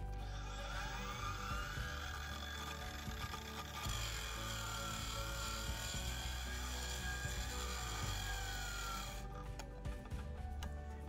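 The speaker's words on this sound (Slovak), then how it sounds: "Teraz na flexu vyskúšam na režime 3000 otáčok zatlačiť." A Parkside Performance 40V cordless angle grinder at 3000 rpm whines steadily while pressed into material, a rough grinding rasp throughout before the tone drops away near the end.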